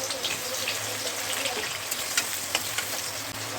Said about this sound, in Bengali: পেঁয়াজটা আমি ভালো ভেজে দিলাম পেঁয়াজটা ভাজা হোক